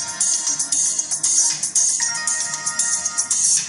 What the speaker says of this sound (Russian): Пожалуйста, идет вызов телефона.